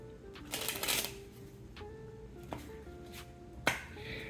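Bicycle playing cards are worked through a faro shuffle, giving a fluttering riffle burst followed by a few sharp snaps and clicks as the deck is squared, close and quiet.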